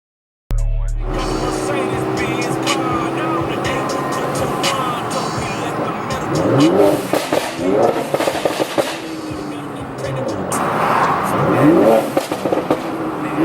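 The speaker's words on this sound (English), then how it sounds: "go for a little drive." A car with paddle shifters pulls off for a short drive on a cold day, its engine droning steadily and then rising and falling in repeated surges as it accelerates, with road rumble throughout.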